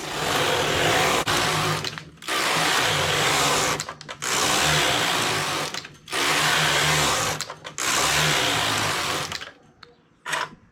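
A domestic knitting machine with a ribber knits rows of a ribbed piece, its carriage whirring loudly in repeated sweeps of about two seconds each, separated by short clacking pauses.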